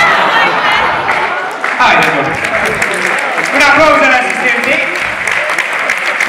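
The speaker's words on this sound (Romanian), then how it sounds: "Să rămână aplauze!" A live stand-up comedy audience in Brasov claps in a sustained, dense round of applause, with crowd noise and chatter mixed into it.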